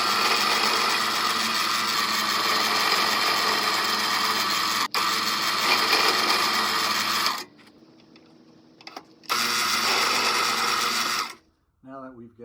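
A brad point drill bores holes into a wooden guitar neck with a steady loud motor whine, stopping briefly in the middle before a second run, close up.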